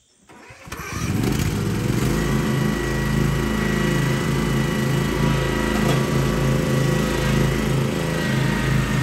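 A lawn mower engine starts and then runs steadily at a loud, even drone for mowing a yard, with no talk over it.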